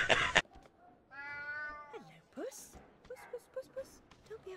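A cat in the video game Alice Madness Returns lets out a clear, drawn-out meow up close, with a sharp noise before it and a voice talking afterward.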